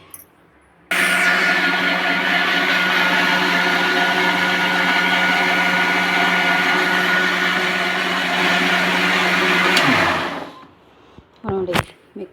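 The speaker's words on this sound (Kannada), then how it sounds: "ಈಗ ಇದನ್ನ ಅಕ್ಕಿ ಮಿಕ್ಸರ್ಗೆ ಹಾಕ್ಕೊಂಡ್ಬಿಡ್ತೀನಿ" A loud, steady electric mixer grinder whirs continuously for about nine seconds grinding rice, then winds down and stops, followed by a couple of brief clatters.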